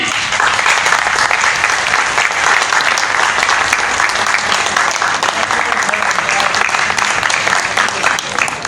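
A theater audience gives a loud, sustained round of applause welcoming a drama's lead actor, a dense unbroken roar of clapping from a large crowd that stays strong throughout.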